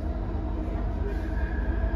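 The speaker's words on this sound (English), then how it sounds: "Oh, the train moved." A Kelana Jaya Line LRT train moves through the station with a low continuous rumble and rolling hum, heard close and steady throughout.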